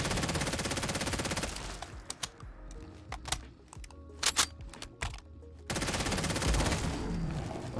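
Bursts of modded automatic weapon fire aimed at a Deathclaw in Fallout 4, loud sustained rattling volleys at the start and end with scattered short shots and impacts in between, no talk.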